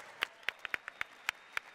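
A small audience at a gaming convention Q&A session gives a brief, sparse round of applause, with a handful of distinct hand claps at moderate distance and no one talking.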